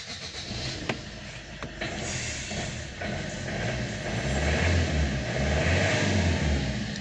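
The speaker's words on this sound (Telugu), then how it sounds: "సో వెహికల్ స్టార్ట్ చేస్తున్నా." A 2016 Maruti Swift Dzire VDI diesel car starts with a couple of sharp clicks, then its engine noise builds into a loud, steady low rumble that fills the rest.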